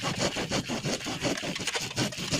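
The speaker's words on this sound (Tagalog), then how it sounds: "Naglalagari si Inday" Hand saw cutting through wood for a table, steady rhythmic back-and-forth strokes, close and fairly loud, about a dozen strokes with no talking.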